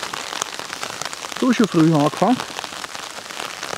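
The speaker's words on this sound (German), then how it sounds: "Es regnet schon" Raindrops patter steadily on a tarp, a dense, even drumming that runs through the whole stretch, with someone speaking briefly over it in the middle.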